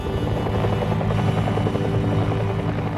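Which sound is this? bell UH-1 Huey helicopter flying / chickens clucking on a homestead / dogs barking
bell UH-1 Huey helicopter flying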